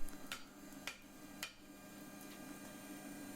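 Sharp metallic hammer blows flatten the end of a metal scroll, four or five distinct strikes at irregular spacing, fairly faint and close, fading into a low steady hum.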